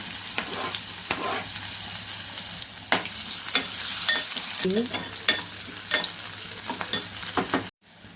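Mustard seeds crackle and sizzle loudly in about 1.5 spoons of hot oil for urad dal, with continuous frying hiss, scattered pops and stirring scrapes, then a brief cut near the end.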